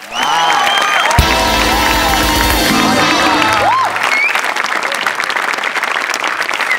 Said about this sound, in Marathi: दत्तू, तुझा अटेम्प्ट उभा राहून टाळ्या वाजवणं जोग आहे.